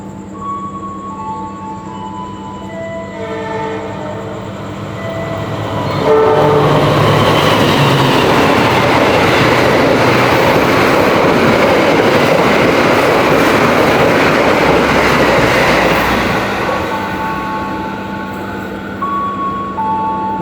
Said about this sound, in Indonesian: Melintas kereta api